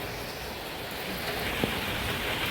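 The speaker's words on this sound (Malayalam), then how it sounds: "മഴയാണ് തകർക്കുന്നത്." Steady heavy rain falls as a dense, unbroken hiss during a temple festival in Chelakkara, Thrissur, with one brief soft knock partway through and no voices.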